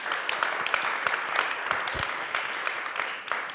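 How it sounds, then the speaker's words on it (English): A studio talk-show audience claps to welcome Johannes Ebert, Secretary General of the Goethe-Institut, a steady, moderately near round of applause throughout with no voices over it. "So, please welcome a round of applause for Johannes Ebert, Generalsekretär of Goethe Institute."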